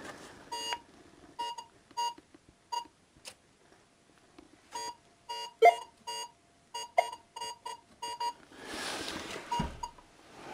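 A metal detector beeps while treasure hunting in a dusty attic. Short electronic bleeps come in irregular clusters with quiet gaps between them, and a brief rustling scrape follows near the end.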